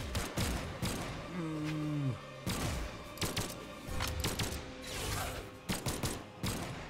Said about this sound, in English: Those guns are so annoying.